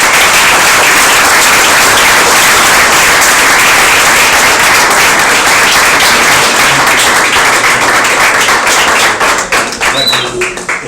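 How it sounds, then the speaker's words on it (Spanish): Loud audience applause at the close of a lecture on counterculture in 1980s Extremadura, dense sustained clapping from a close crowd that thins slightly toward the end. "Y si queréis aplaudir"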